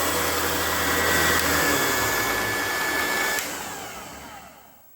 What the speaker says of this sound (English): Our Black & Decker valve grinding machine works.